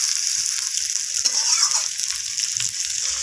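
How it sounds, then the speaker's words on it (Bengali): Sliced ridge gourd tossed with onions in hot oil sizzles continuously and close by, a bright hiss broken by soft scraping as the pieces are stirred around the pan. "তো ঝিঙেগুলোকে পেঁয়াজের সাথে একটু নাড়াচাড়া করে আমি ভাজা করে নেব।"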